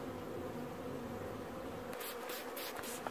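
Honey bees crowd around an open hive in September on the island of Newfoundland, a continuous close buzzing drone that thins slightly toward the end amid soft handling noises.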